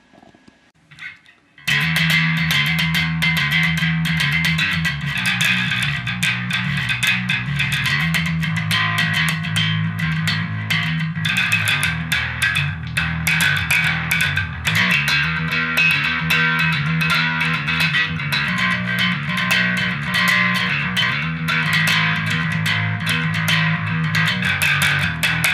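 Heavily distorted, fuzzy bass guitar riff played through an effects pedal starts after a short pause and plays loud and continuous, thick and gritty with a buzzing edge.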